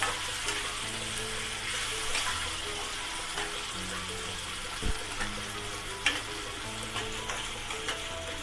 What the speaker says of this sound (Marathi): हा मसाला ना आता चांगला भाजून घ्यायचा.